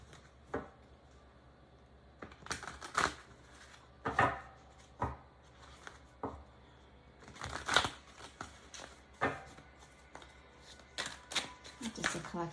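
Tarot cards shuffled and drawn from the deck, giving a run of soft papery riffles and slaps in irregular bursts, close by, with faint talk in the background.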